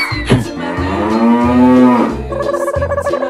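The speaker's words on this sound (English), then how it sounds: "Cow." A cow gives one loud, long, close moo that bends in pitch and lasts well over a second. Short lower bellowing sounds come before and after it.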